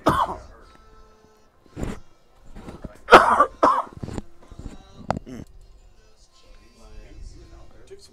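Several short, sharp coughs and a throat clearing from a radio announcer during a high school baseball broadcast, spaced irregularly over about eight seconds with quieter gaps between them.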